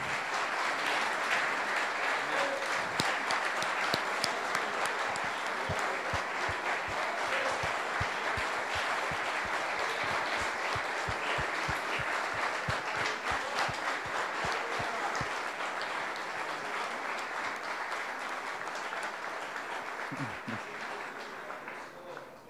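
An audience at a 2021 pastors' retreat gives a long, sustained round of applause. Steady, dense clapping with some rhythmic beats fills the room for over twenty seconds and tapers slightly at the end.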